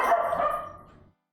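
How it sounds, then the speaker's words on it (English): Dog named Milo giving a single close bark that trails off over about a second, followed by silence. "why are you barking?"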